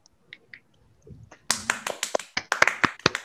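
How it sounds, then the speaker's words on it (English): A small group of people at a comedians' quiz show clap for the losing contestant, starting abruptly after faint sounds and going on as sharp, close, separate claps in an uneven rhythm. "You should always clap for the loser"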